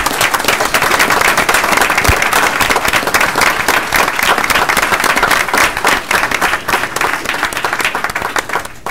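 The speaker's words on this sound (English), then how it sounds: "Let's give them a big round of applause." A city council committee meeting audience gives the DeKalb Police Department a long round of applause: dense, loud, sustained clapping with no talk, tapering slightly at the end.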